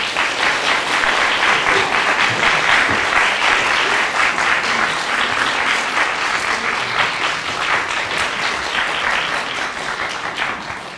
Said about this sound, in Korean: 나오실 때 큰 박수로 맞이해 주시고요